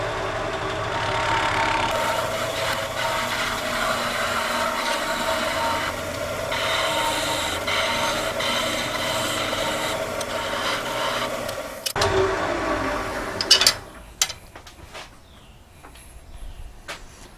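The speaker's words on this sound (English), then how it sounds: "Got the lathe running at about 1900." A wood lathe spinning at about 1900 rpm while turning a lighthouse Christmas ornament, a steady whirring drone with scraping tool contact, ending in a few clunks and a quieter tail as it slows.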